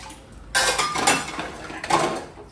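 Pots, pans and cutlery clatter and clink during dishwashing in a home kitchen, in a few loud bursts of scraping and knocking with quieter handling between them and no voices.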